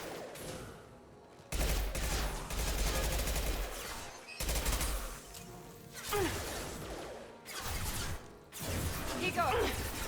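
Automatic gunfire from the video game Mass Effect 2, with loud bursts of fire that cut in and out between short gaps and a few whooshing shots. Voices speak through the fighting.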